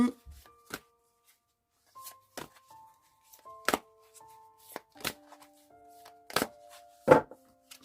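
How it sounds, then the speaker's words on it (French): A deck of oracle cards being shuffled and handled during a guardian-angel card reading, with a series of short, crisp snaps and taps at irregular intervals over soft, sustained background music tones. "J'ai envie un petit peu de sortir ce jeu de cartes ici."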